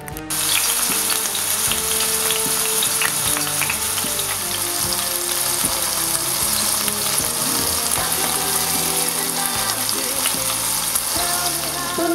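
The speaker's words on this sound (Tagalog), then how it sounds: "Pwede na po nating i-fry ang chicken tocino." Homemade chicken tocino frying in a pan, a loud, steady, close sizzle running throughout with occasional stirring and spattering, and no voices.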